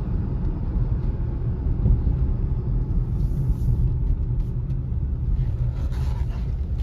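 A 2014 Hyundai Tucson SE AWD with 136,000 miles and a new factory engine, heard from inside the cabin as it accelerates at about half throttle, a steady low rumble of engine and road noise.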